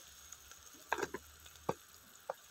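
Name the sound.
masala spices frying in a pan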